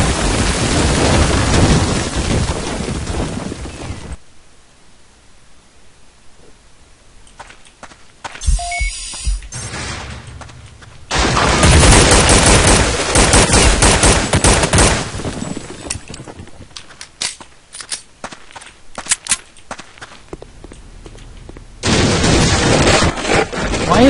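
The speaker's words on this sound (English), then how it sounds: "The good thing about the burst fire is I just have to aim at their head and shoot and they die." Burst-fire rifle shots in Counter-Strike: Condition Zero come in loud clustered volleys. Between the bursts there are quieter stretches of footsteps and faint game ambience, and the firing picks up again in the middle and at the end.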